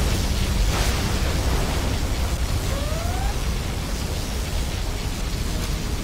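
A particle cannon superweapon fires in the real-time strategy game Command & Conquer Generals Zero Hour, producing a continuous loud roaring blast with a dense, rumbling explosive wash.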